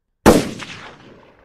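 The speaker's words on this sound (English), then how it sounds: "With the explosion of the rifle," A single loud rifle shot used as a sound effect in a tiger-hunting adventure audiobook, a sharp crack with a decaying echo that fades over about a second.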